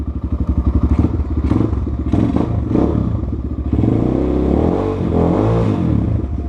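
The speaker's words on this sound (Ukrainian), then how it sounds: "Зараз поїдемо ще разок, затестимо цей мопед." A KOVI 250 motorcycle idles with a fast, steady thumping beat, then revs up with rising and falling engine pitch and pulls away, loud and close, with some clatter and scraping mixed in.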